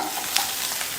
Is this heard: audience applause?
no